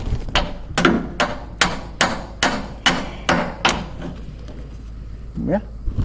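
Hammer pounding a chain master link into place during repairs on a Spudnik bin piler, about eight sharp metallic blows in a steady rhythm, close and loud, with a faint voice near the end.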